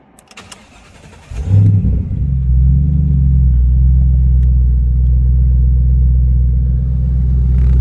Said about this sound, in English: they include the Borla exhaust system on these. Has a really nice tone to it.